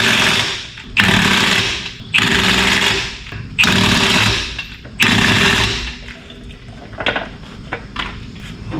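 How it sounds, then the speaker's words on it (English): Power tool removing car wheel lug nuts: several loud bursts of whirring and rattling impact, each about a second long, separated by brief pauses, followed by quieter clanks and handling noise. "I gotta get the other lug nuts."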